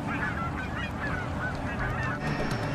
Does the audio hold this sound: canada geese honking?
yes